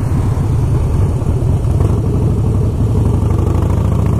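A Harley Davidson Blackline motorcycle engine with tasteful modifications runs loud and close, a steady low rumbling throb that holds without a break, with no voices.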